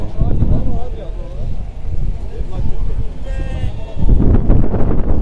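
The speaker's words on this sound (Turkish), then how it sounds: "Gördüyünüz kimi quzular var burada göstərim sizə." Several lambs bleat in short, wavering cries at a sheep market in Maştağa, Azerbaijan, amid background murmur and wind, with a louder crowd burst near the end.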